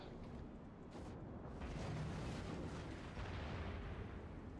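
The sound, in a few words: naval gunfire hitting ship in World of Warships video game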